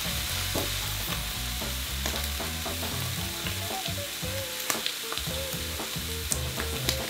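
Whole eggs and liquid egg whites sizzle and spit steadily in a hot pan for a breakfast burrito, a dense continuous frying hiss with scattered pops and a few stirring scrapes, close and fairly loud, no talking.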